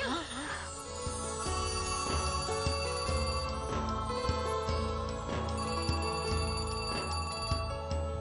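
A telephone rings repeatedly in a steady electronic pattern, loud and close, over a music-like bed with faint voices in a Hindi TV drama scene.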